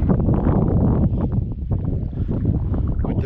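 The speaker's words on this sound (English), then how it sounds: "With the southwest wind, it's almost like it's an offshore wind here." A southwest wind blowing offshore on Lake Superior near Lake Point during a paddling trip buffets the microphone in rough, uneven gusts for a few seconds.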